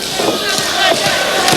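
A wrestling crowd roars and yells at a live indie wrestling show as a wrestler fires them up, a loud, continuous wall of cheering close around the listener.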